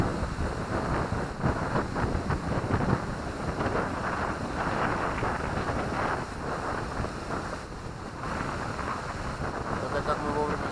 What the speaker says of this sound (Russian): у нас тут такой, как он называется, низовой ветер или поземка